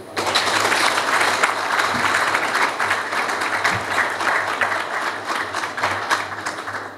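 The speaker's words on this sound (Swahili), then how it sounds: "Makofi mengi sana." Loud, sustained applause fills a press event where Simba football club announces a sponsorship deal, the clapping steady and dense from start to finish with no talk over it.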